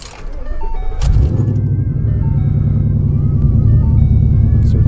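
A Ford Mustang S197 5.0 V8 fitted with an Airaid cold air intake cranks briefly and fires, settling into a loud, steady, throbbing idle close by.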